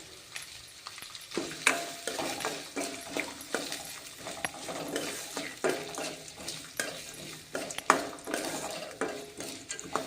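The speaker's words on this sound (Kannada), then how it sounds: "ಈರುಳ್ಳಿ ಹಾಕೋಣ. ಈರುಳ್ಳಿ ಫ್ರೈ ಆಗಲಿ." Onions sizzle in hot oil in a pan alongside field beans, with a spoon stirring and scraping against the pan in repeated close strokes over a continuous frying hiss.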